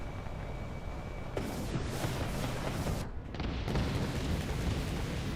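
Explosions in Halo 3 multiplayer, with heavy booming blasts rolling over one another in a dense, continuous roar that swells and surges for several seconds at steady loudness.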